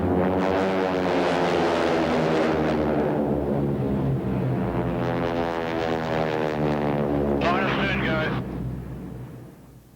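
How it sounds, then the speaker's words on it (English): A propeller aircraft powered by nine-cylinder Pratt & Whitney radial engines drones loudly and steadily with a rough, harmonic engine tone, and someone narrates over it before it fades at the end. "those 9-piston Pratt & Whitney radials whip the propellers around so fast that the tips break the sound barrier"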